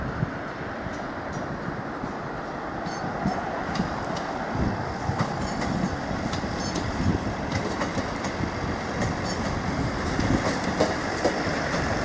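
A train from Liverpool Lime Street rolls into Norwich station with a steady rumble and rhythmic clickety-clack of wheels over rail joints, growing slightly louder over twelve seconds, with faint squeals.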